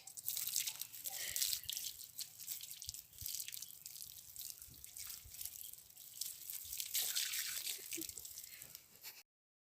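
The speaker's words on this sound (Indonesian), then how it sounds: "Baru dilakukan lagi di bawah air mengalir." Hands are washed under a running tap during an infection-prevention handwashing routine, a steady broadband rush of water with scattered drips and splashes continuing for about nine seconds, fairly close and without talk.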